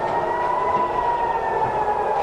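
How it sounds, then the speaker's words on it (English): Air raid sirens sound across Tel Aviv, a sustained steady wail holding one pitch, loud and continuous with no voices. "Air raid sirens are sounding across Israel's second largest city of Tel Aviv"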